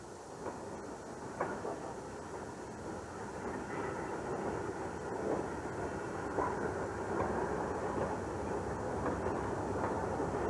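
A Santa Fe passenger train, number 4, pulls away with a steady rolling rumble and faint rhythmic clicks of wheels on rail joints, heard at a moderate distance with no talking.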